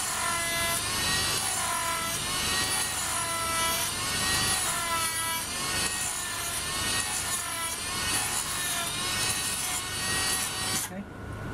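A Dremel rotary tool grinds into PVC pipe with a loud, high whine that rises and falls in repeated passes, steady throughout and ending abruptly.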